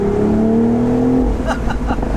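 A 2020 BMW Z4 M40i sports car engine pulls hard under acceleration on an open high-speed road, a loud, rising tone that drops off midway as the next gear engages, close and continuous with some voice over it.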